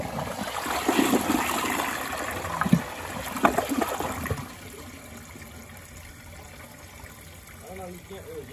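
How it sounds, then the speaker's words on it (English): A toilet flushing, with rushing and gurgling water loud for the first few seconds, then settling into a quieter steady trickle as the tank refills. "I'm just flushing the tank, so it doesn't really get that much"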